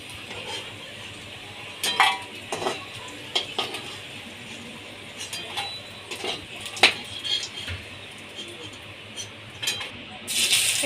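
Fried paneer-potato papad rolls being lifted out of hot oil, with a quiet bubbling sizzle underneath repeated sharp clinks and scrapes of a metal utensil against the pan, spaced irregularly throughout.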